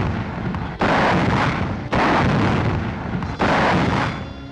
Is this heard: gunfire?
yes